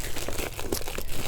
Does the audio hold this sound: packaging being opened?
yes